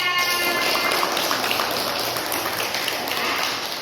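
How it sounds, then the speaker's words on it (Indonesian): Steady, dense classroom applause for a student, many hands clapping together close by at an even loudness throughout, with no voices over it. "Iya, tepuk tangan buat dia."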